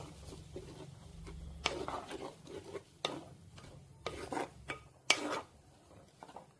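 A spoon scrapes and stirs through prawn and ridge gourd curry mixed with coconut paste in a clay pot, giving irregular close rasping strokes over a low background hum.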